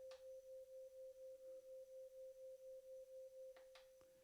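A Roland TR-8S plays a sine-wave tone on a high C in steady eighth notes, seventeen even pulses at one pitch, clean and alone, ending with a few faint clicks.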